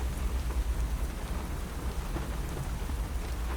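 Rain pouring steadily, a dense continuous patter with a low rumbling undertone like distant thunder, unbroken and without speech.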